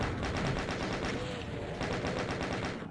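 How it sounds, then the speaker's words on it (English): Rapid, steady chaingun fire in the DOOM game, a continuous fast rattle of shots running the full three seconds at even loudness, with faint game noise beneath. "Maybe chain gun."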